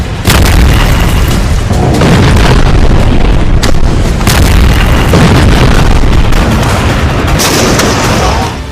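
Rocket and missile strikes in Tulkarm ring out as continuous heavy booms and blasts, loud and dense with several sharp bursts layered over rumbling, saturated footage.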